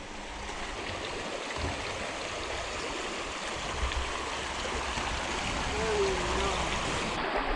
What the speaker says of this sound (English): More rapids.